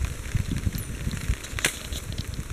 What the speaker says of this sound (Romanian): Am aprins focul.